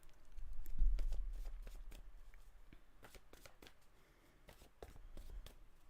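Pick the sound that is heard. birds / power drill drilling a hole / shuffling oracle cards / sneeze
shuffling oracle cards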